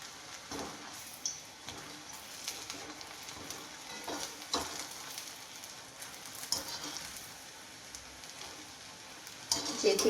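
Homemade kurkure pieces frying in hot oil give a steady, quiet bubbling sizzle with scattered crackles and small pops, close by and continuous for several seconds, growing a little busier toward the end.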